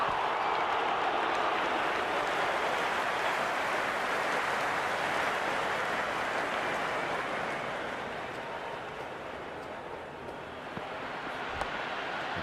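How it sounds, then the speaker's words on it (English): A stadium crowd roars steadily in the Cricket 26 video game during an India vs England ODI, a broad sustained wash of cheering and applause that eases slightly toward the end. "The spectators are absolutely buzzing right now."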